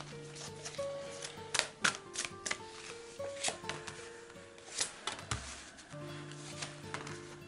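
Tarot cards are shuffled and laid out for a spread, giving soft irregular flicks and taps with a few sharper slaps, heard close over gentle background music.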